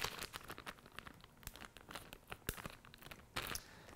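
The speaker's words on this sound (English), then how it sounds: "This will go back inside the clear plastic bag." A clear plastic bag crinkles and rustles up close as a test tube casing for a PCR swab test is slipped inside, with quiet irregular crackles and a few sharper snaps.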